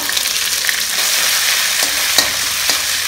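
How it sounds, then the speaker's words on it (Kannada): Cumin, curry leaves and ginger garlic paste hitting hot oil in a pan, a loud dense continuous sizzle up close with a few sharper crackles and clinks, no voices. "ಎಣ್ಣೆ ಕಾದ್ಮೇಲೆ ಜೀರಿಗೆ ಕರಿಬೇವಿನ ಎಲೆನ ಮುರಿದ್ಬಿಟ್ಟು ಹಾಕಿ ಶುಂಠಿ ಬೆಳ್ಳುಳ್ಳಿ"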